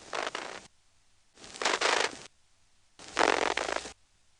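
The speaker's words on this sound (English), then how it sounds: "I would suspect that it's the sound of a Stromberg XY line finder" Three bursts of buzzing, rasping mechanical noise from a Stromberg XY telephone exchange line finder, each about half a second to a second long, separated by short silences.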